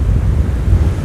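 Icy wind at a Black Sea beach in Anapa roars into the microphone as a loud, steady rumble, likely with surf underneath, and no voices are heard.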